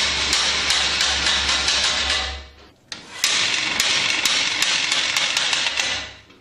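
A carbon Santa Cruz Nomad bike frame is smashed repeatedly, giving loud, harsh cracking and crunching impacts in two long bursts broken by a short pause, with a low hum beneath the first burst.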